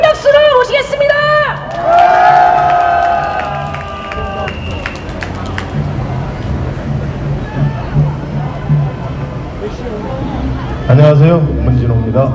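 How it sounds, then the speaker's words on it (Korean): Outdoor crowd at a candlelight protest rally in front of Seoul City Hall, applauding and cheering as a singer is welcomed: loud shouts and whistles at first, then steady clapping and murmuring voices, swelling again at the end. "가수 문진호님을 큰 박수로 모시겠습니다"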